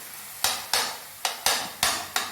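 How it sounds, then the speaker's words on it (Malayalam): A small spoon strikes a pan in evenly spaced, sharp taps while mashing banana in ghee, about six distinct knocks over a faint background sizzle. "ഇതുപോലത്തെ ഒരു കൊച്ചു സ്പൂൺ വെച്ച് നമ്മളങ്ങനെ ഉടച്ച് എടുത്തുകൊണ്ടിരിക്കുകയാണ് അതിനെ"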